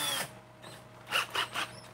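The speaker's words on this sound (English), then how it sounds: "I'm gonna grab my drill." An electric drill spinning a solid brass rod, used while modifying a small die-cast toy car, whirs in three short, close bursts after a quieter start.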